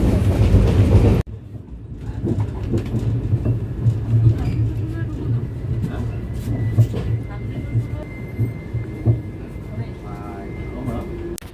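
A Jan Shatabdi Express train on the Guwahati–Jorhat Town route pulls into Farkating Junction, its steady low rumble and wheel clatter running throughout after a brief loud burst at the start, with faint voices in the carriage.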